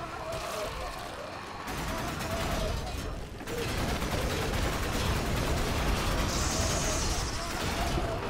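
Heavy automatic gunfire in the video game Warframe rattles almost continuously, dense and loud, with short breaks and game effects mixed in, and a voice talking faintly underneath.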